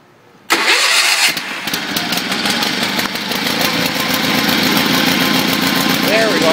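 A 1974 Sears Suburban SS16 garden tractor's twin-cylinder engine cranks and catches suddenly, then keeps running loud and steady at a cold idle with a slightly uneven chug, a voice speaking over it.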